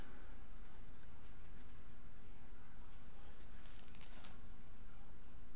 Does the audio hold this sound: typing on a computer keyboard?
yes